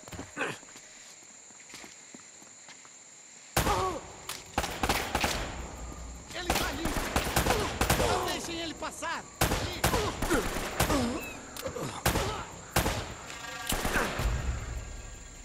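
Gunfire in the video game Uncharted: Drake's Fortune comes as repeated bursts and single shots, loud and irregular after a quieter opening, mixed with in-game voices talking.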